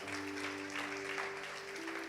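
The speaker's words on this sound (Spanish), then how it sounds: "Denle un aplauso al Señor." A church congregation applauds during a sermon, a steady wash of many hands clapping at a distance, faint and continuous under a low electrical hum.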